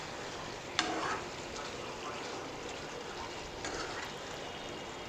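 Chicken kosha curry stir-fried in a pan over a moderate flame, a steady soft sizzle running throughout with a couple of brief spoon scrapes against the pan.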